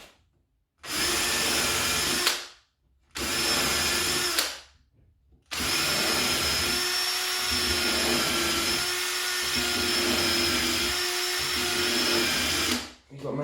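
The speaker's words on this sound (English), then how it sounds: "So get your drill lined up, nice and straight. Keep going until it hits the stopper." A power drill bores shelf holes through a reusable wooden template in three bursts, a short one, another short one, then a long whine with slight dips as the bit bites. Each burst is loud and close, with brief silences between.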